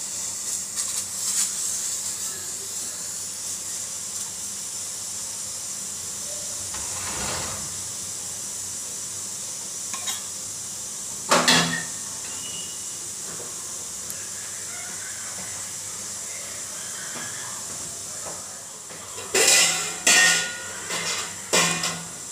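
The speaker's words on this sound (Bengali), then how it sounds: "জলটা ফুটছে।" Water boils in a cooking pot on a home stove, a steady hiss with faint bubbling running throughout, broken by a few brief louder clatters and knocks nearby.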